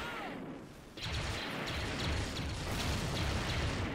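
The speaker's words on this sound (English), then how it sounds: "Nice to see an explosion" Dense, continuous battle noise of gunfire and blasts in a Star Wars: Galaxy at War mod game, with a rocket-fired explosion swelling after a quieter first second and staying loud and crowded throughout.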